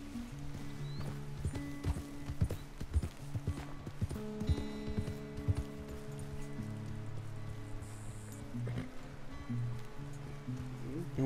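Horse hooves clip-clop in an irregular walking rhythm in Red Dead Redemption 2, set over soft rain patter and a low sustained musical drone, with occasional voices in the game.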